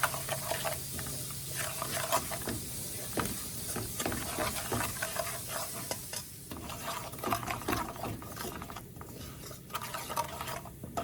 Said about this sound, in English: Fry up my curry in there